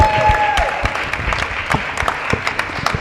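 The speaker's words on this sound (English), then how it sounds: "So can we have a round of applause for Victor Harwood and Digital Hollywood?" Applause from a conference audience at an awards event, steady clapping with sharper individual claps scattered across the clip, moderately loud and continuous, with a brief tonal whistle-like sound near the start.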